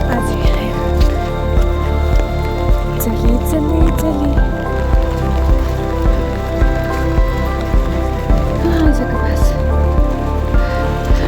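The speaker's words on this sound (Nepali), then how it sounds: "यहाँ धेरै नै जाडो छ पानी नि परिरहेछ" Heavy rain falls steadily through dense forest on a walk to Taji in Nuwakot, Nepal, a constant patter and dripping close by, with people talking over it.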